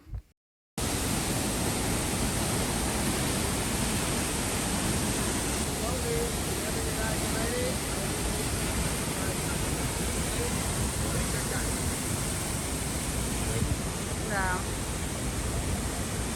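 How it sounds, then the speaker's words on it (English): Rio Celeste waterfall in Costa Rica roars as a steady, dense, loud rush of falling water that continues unbroken after a brief silent start. "I was so impressed by this waterfall"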